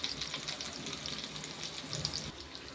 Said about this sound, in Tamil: நல்லா ஸ்லோவிலேயே இந்த மீன் வெந்தால் நல்லா மொறு நல்லா கிறிஸ்பியாக நல்லாயிருக்கும்